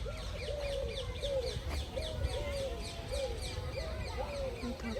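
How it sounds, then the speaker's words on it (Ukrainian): Birds call and chirp repeatedly at moderate distance over a steady outdoor murmur in a park in Seville, Spain, with faint voices in the background. "І співають пташечки."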